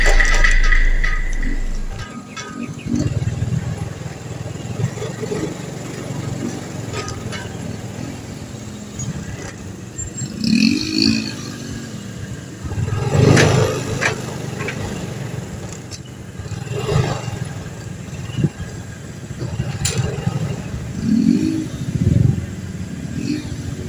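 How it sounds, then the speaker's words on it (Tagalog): Road traffic near Nomnom Bridge: cars, trucks and motorcycles pass close by, with engines revving and rumbling as vehicles come and go in waves, and people talk now and then underneath. "Uy, traffic."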